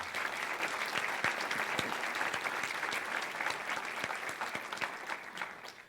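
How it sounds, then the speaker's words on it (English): An audience at a law school event in North Carolina applauds steadily, a dense wash of clapping that holds for several seconds without any talk over it. "Give Ronnie Lancaster a great round of applause, will you?"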